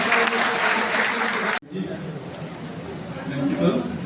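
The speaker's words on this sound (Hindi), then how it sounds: "एक बार जोरदार तालियां अपने प्राचार्य माननीय" An audience at an international seminar on the cultural heritage of the Indian diaspora breaks into applause that cuts off abruptly, followed by a low crowd murmur and a presenter speaking over the hall.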